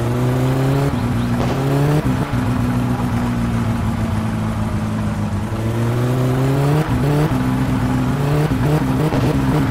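A car engine in the video game My Summer Car revs loudly and continuously in first gear, its pitch climbing, dropping and climbing again in repeated surges.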